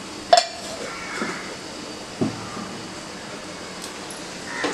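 A paneer bhurji mixture with milk added is stirred in a pan, making a few sparse metallic clinks and scrapes of a utensil against the pan, close and fairly quiet with no talking.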